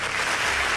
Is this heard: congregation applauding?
yes